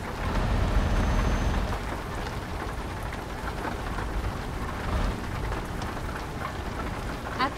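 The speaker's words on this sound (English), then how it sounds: "The rain sounds pretty good too." Steady, dense rain in the video game Euro Truck Simulator 2 pours throughout, a constant wash of drops with a faint low rumble underneath, loud and close, no voices.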